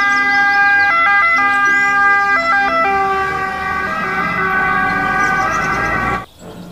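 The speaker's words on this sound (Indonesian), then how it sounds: "ada mobil pemadam kebakaran." A loud wailing fire truck siren sweeps up and down close by, mixed with passing traffic rumble, then cuts off abruptly near the end.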